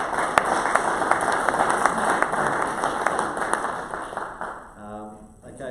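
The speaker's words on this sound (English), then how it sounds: "So can we just get a round of applause for Don?" Audience at an annual general meeting and forum gives a sustained round of applause, dense clapping that fills the room and fades out near the end as a voice begins to talk.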